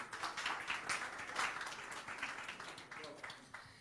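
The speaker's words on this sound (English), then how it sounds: "Please give her a round of applause." An audience at a climate finance lunch session applauds steadily for the deputy national team leader of PACE. The dense, fairly distant clapping holds at an even level, then thins toward the end.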